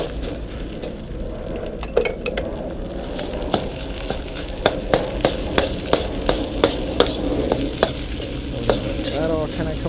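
Eggs and sausage sizzle loudly in a wok on a Blackstone Tailgater griddle while a spatula scrapes and taps the metal in a steady rhythm, close up, with no talking.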